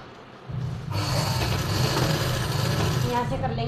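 Sewing machine running steadily while stitching a diagonal seam on a silk suit, a continuous close mechanical whir with low rhythmic pulsing that starts after a short quiet lead-in and holds to the end.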